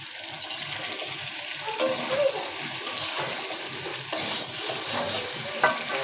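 Vegetables frying in a pan, a loud close sizzle with intermittent stirring scrapes and clinks over six seconds, no voices.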